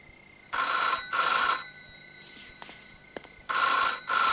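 A telephone rings in a quiet room with a classic electric bell, giving three loud, close bursts of about a second each separated by pauses, with faint clicks in between.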